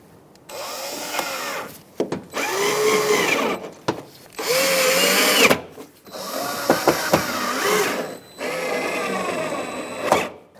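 A power drill drives screws into the front inner fender liner of a 2002–2006 Toyota Camry, whirring in several sustained bursts that rise and fall in pitch, loud and close, with short pauses between screws.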